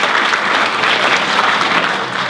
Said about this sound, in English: we'll give him a little round of applause.